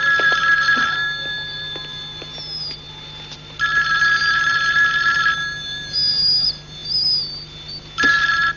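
A telephone rings in a 1988 thriller film, repeated electronic trilling bursts separated by short pauses, loud and clear over a quiet background hum.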